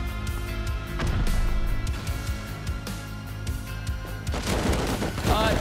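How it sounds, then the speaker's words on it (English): Rocket launcher fire in Rust aimed at a raid base from a rooftop, with repeated sharp blasts and crackling gunfire in a busy, loud exchange, no speech audible. "A rocket launcher and start sending rockets at their raid base from our roof."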